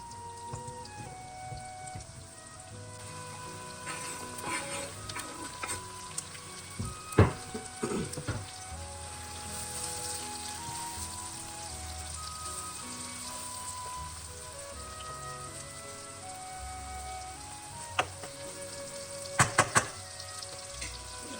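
Onions with yellow, red and green peppers frying in a pan, a soft continuous sizzle with occasional clinks and stirring knocks from utensils, close and fairly quiet.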